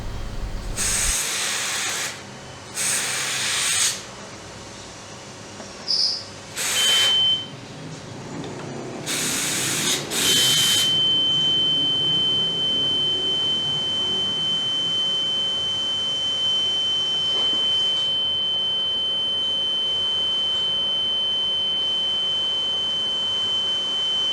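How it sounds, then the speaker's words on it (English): Reconditioned smoke detector heads are tested: several bursts of hissing spray, followed by a steady, high electronic beep tone that sounds briefly and then holds continuously. "We can now see that both detector heads are operating successfully"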